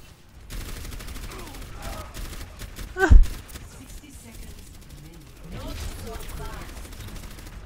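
Overwatch match gameplay with bursts of weapon fire, a sharp loud shot peaking midway amid ongoing game effects and a voice talking over the action.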